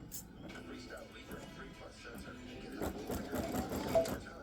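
A home embroidery machine stitches a bow applique design with a soft, rhythmic mechanical patter, faint and close, while a person talks over it.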